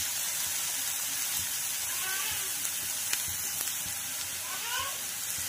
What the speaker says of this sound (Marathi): कढईमध्ये मी 3 चमचे तेल घातलेले आहे आणि आता हे छोटे छोटे पीसेस कारल्याचे असे टाकून आपल्याला वाफवून घ्यायचे आहे